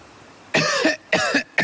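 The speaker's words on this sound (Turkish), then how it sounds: "Oğlum sen de amma öksürdün ya." A man coughs three times in quick succession, loud and close, with short gaps between the harsh bursts.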